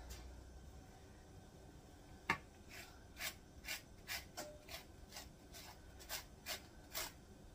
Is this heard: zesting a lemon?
yes